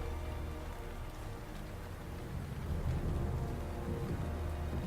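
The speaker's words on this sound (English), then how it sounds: "This rain has not stopped all day." Steady rain pours down in a dense, even hiss, swelling slightly louder partway through, with no voices over it.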